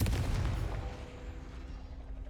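In the Hogwarts Legacy video game, a Confringo spell explosion hits with a booming blast, then a rumbling decay that fades over about two seconds.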